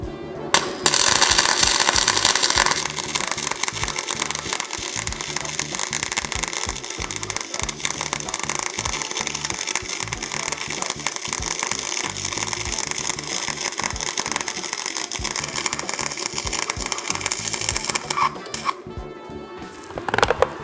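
A Dnipro-M MG-16DX semi-automatic welder runs on thick metal, giving a loud, continuous crackling buzz for about seventeen seconds before it cuts off, leaving quieter handling noise.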